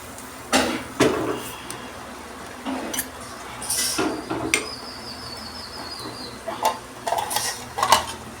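A pot of Kerala fish curry swirled and handled on the stove, a series of close metallic knocks, scrapes and clinks of the vessel at irregular intervals over a low simmering background.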